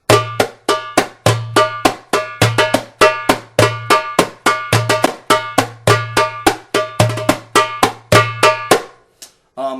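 A hand drum plays a repeating maksum rhythm of sharp, ringing strikes, deep and bright hits alternating in a steady, lively rhythm, close and alone, then stopping.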